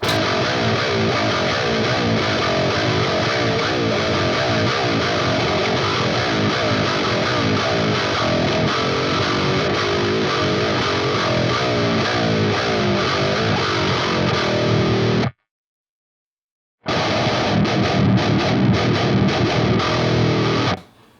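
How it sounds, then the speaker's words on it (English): Heavy distorted electric guitar riff played continuously and loud, its pitch gradually shifting with a whammy pedal, with a brief silent gap before the riff resumes. "So I'll show you the riff and gradually pitch shift as we go."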